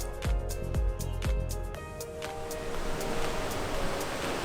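Steady rushing surf of ocean waves, broad and continuous, with a few low thumps early on.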